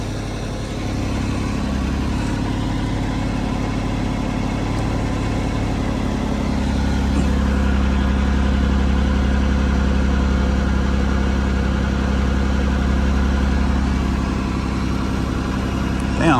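A 2008 Ford Escape runs at idle with a loud fuel pump, a steady close engine hum with a constant whine layered on top, while people talk over it.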